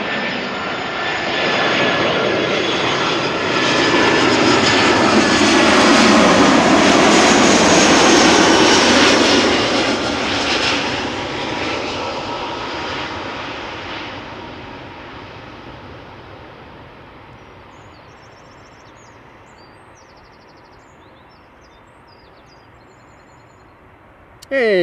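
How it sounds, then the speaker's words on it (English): An ITA Airways Airbus A320 arriving at Schiphol from Milan swells into a loud jet roar with a rising whine, peaks, then fades steadily into the distance until near silence at the end. "Regular A320 arriving from Milan"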